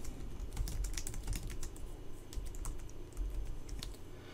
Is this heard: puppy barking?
no